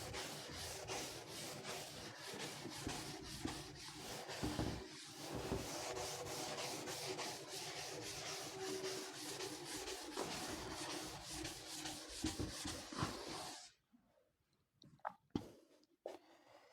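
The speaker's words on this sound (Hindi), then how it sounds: "इसको रब कर देते हैं, थोड़ा सा रब करते हैं" Writing being rubbed off a board during a physics lesson, a long run of close, rapid back-and-forth scrubbing strokes that stops abruptly, followed by a few scattered soft knocks and scrapes.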